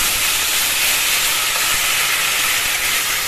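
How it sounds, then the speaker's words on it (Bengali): Taro leaves go into hot tempering spices in a pan, giving a steady, loud broadband sizzling hiss that holds without a break from start to finish, with no voices. "এবার আমি এর মধ্যে আস্তে আস্তে কচুর শাক,"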